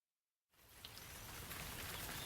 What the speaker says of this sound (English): It's rainy, too.